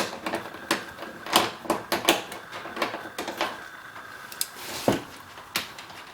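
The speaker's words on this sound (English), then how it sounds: "Okay, so I'm just unscrewing these 3 bolts." Three tail light bolts being unscrewed on a 2015-or-later Subaru during an aftermarket Subispeed tail light installation give a string of sharp, close metallic clicks and ticks, irregular and scattered, with no talking.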